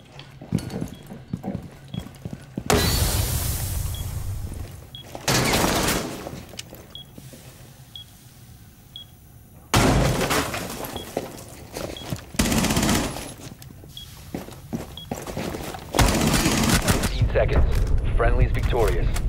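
Shotguns fire in Rainbow Six Siege during a 1v1 match as several loud, close blasts in separate bursts, with clattering and footsteps between the shots and players talking over it.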